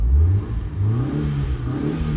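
A 1.0-litre Chevrolet Celta engine revs up and climbs quickly, its mid-low drone rising and falling in pitch, loud and close, with no talking.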